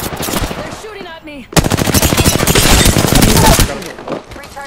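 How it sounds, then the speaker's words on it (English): Rapid automatic gunfire from Apex Legends bursts in loud, dense volleys, with a brief gap before a sustained stream of shots that tails off near the end. "They're shooting at me!"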